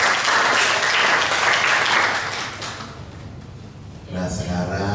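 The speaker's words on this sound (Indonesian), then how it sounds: "Tepuk tangan untuk kita semua." Applause from a church congregation at a Mass and adoration gathering, loud and dense at first, then thinning and fading before a brief swell of voices near the end.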